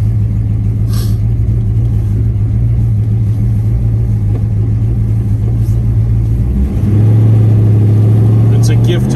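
A 1969 Dodge Coronet R/T Hemi engine idling with a deep steady rumble that rises into a louder rev near the end, with someone talking over it.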